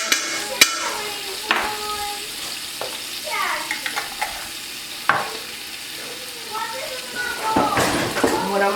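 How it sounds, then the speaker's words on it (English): Minced garlic, about a tablespoon and a half, sizzles while sauteing in a pan, a steady close hiss broken by stirring scrapes and clinks, with a person talking over it. "I don't know if y'all can hear it sizzling, but it's definitely sizzling."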